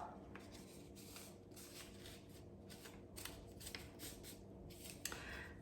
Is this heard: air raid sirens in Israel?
no